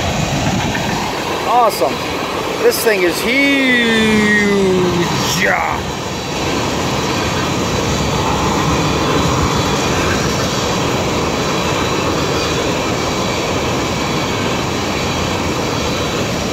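A huge BNSF tanker freight train of over 200 cars, led by five locomotives with mid-train DPUs, rumbles steadily past close by. Horn blasts come early on, then a continuous roar of rolling cars follows, and one brief spoken word is heard.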